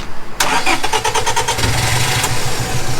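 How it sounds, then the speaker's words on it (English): A Toyota 4AGE engine in a KE70 cranks with a rapid whirring Honda starter motor, then catches and settles into a steady, close idle rumble with no talk. "Honda starter motor sounds amazing as well"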